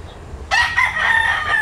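A gamecock rooster crows once, loud and close, a strong sustained call that cuts in abruptly after a brief stretch of quiet background noise.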